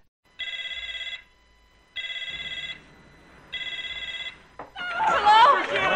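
A telephone bell rings in three evenly spaced electronic trills, loud and clear in an otherwise quiet room, then a person starts talking.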